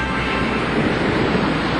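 North Sea waves surge against a storm surge barrier, a loud, unbroken wash of churning water and wind roar that holds steady throughout without pause.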